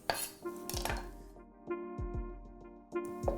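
A knife chops coriander stalks roughly on a board in close, irregular thuds, several sharp knocks spaced out, with a low background hum and music-like ringing tones beneath.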